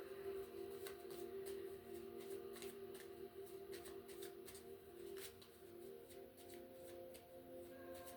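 Tarot cards being shuffled by hand, a repeated soft riffling and flicking in an uneven rhythm, close and quiet over a steady low hum with no talking.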